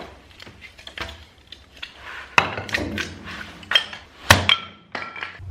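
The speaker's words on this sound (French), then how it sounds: "Je viens de me découvrir une passion pour faire du petit bois" Small kindling wood being split indoors for a first fire: scattered light taps and clinks, then several sharp, loud cracks and thwacks close by, with short pauses between strikes.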